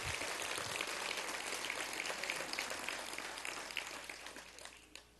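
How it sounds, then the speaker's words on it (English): A luncheon audience at a Latino leadership event applauds in a dense, even wash of many hands that slowly fades over several seconds. "he deserves an incredible applause today"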